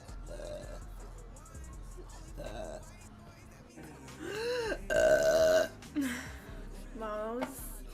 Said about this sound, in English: That's a burp again.